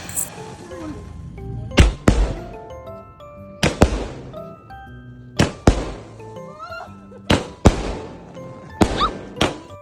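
Firecrackers pop one after another during Eid celebrations, a series of sharp, loud bangs spaced a second or two apart, with a steady background murmur between the blasts.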